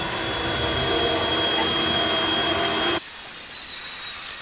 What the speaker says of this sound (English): getting these holes drilled